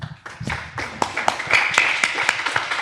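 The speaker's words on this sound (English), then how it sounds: "let's bring up our next founder to a round of applause" An audience claps for a startup founder coming up to pitch to venture investors, starting with scattered claps and swelling into a fuller round of applause with sharp individual claps, and a faint tone rising partway through.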